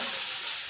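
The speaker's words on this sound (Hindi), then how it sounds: "अब मैं इसमें प्याज डाल दूँगी" Finely chopped onion added to well-roasted cumin in a hot pan gives a brief, steady hissing sizzle, close and fairly loud, with no voices.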